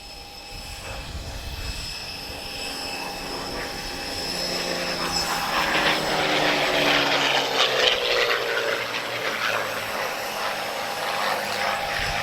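Spitfire wearing black and white D-Day invasion stripes flying at the Portugal Air Summit airshow; a piston engine drone swells louder with a sweeping, shifting pitch as it passes, then steadies, with no talk.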